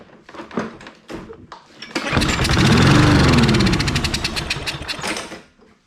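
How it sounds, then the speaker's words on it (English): A Troy-Bilt lawn mower engine fires on a small squirt of fuel and runs loudly for about three seconds in a rough, rapid chugging burst before dying out, preceded by a few quieter clunks. "it fired off just a little squirt of fuel, so we know we got spark"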